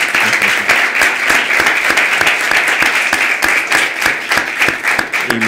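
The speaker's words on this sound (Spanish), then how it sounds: "darle un aplauso que lo merece." Loud, dense applause from an audience at a conference on European Union parliamentary politics, continuous many-handed clapping sustained evenly for several seconds with no voices over it.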